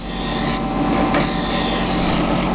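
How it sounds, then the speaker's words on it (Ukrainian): Jointer planer knives are ground on a sharpening wheel with coolant, giving a continuous loud rasping grind with brief brighter scrapes as the blade passes along its length. "по чуть-чуть, по чуть-чуть шліфуємо на чисто"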